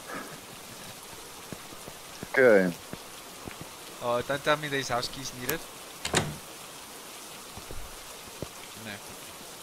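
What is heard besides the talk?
rain falling in the video game Phasmophobia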